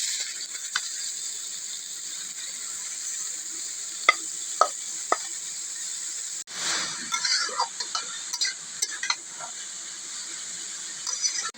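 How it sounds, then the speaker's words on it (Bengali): Carrots drop into hot ghee and sizzle, a steady bright hiss broken by a few utensil clinks, then a louder burst of frying as they hit the pan and get stirred. "এবার আমি গাজরগুলো দিয়ে দেবো।"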